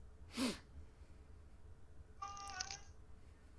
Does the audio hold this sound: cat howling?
yes